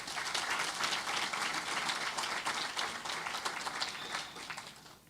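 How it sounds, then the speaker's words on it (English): A crowd at Lucian Carnival 2025 applauds loudly and steadily, a continuous burst of many hands clapping that holds for several seconds before easing a little at the close. "A round of applause, please."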